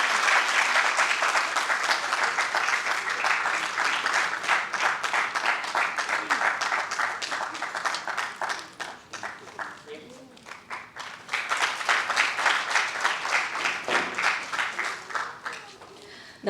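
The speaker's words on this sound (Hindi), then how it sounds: "बहुत बहुत तालियां बजाया थोड़ा सा" Theatre-festival spectators in Bhopal break into long, dense applause for the play's director, which thins briefly midway, with a voice heard, and then swells again before easing off.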